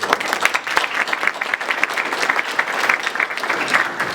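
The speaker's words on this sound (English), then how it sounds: "I want to acknowledge her one more time with a round of applause." An audience at a Christian-Muslim dialogue event claps steadily for an absent honoree. The dense applause holds for several seconds and is heard alone.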